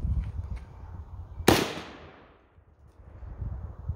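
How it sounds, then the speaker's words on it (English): A single sharp, loud AK-47 rifle shot is fired outdoors at a swinging steel target about 100 yards away, its report decaying over about a second before quiet background returns. "we're going to be shooting a blue target. We're about 100 yards right now"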